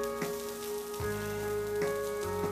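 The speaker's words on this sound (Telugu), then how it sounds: "ఈ విధంగా అన్నిటిపైన కొద్దిగా ఆయిల్ వేసేసుకోవాలండి" Oil sizzles on ponganalu batter in a ponganalu pan, making a steady crackling fry over a constant background hum, with faint clinks as oil is dripped on, no voices present.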